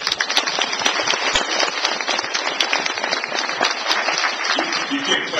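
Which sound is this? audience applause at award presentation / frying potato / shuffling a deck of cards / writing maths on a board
audience applause at award presentation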